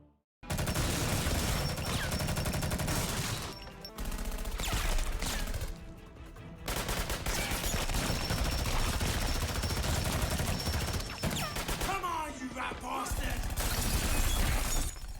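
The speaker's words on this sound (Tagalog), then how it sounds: "ang magkabilang panig ay nagpalitan ng putok." In a movie firefight, dense bursts of gunfire and shattering impacts come loud and near, rattling on almost without pause with brief gaps between volleys.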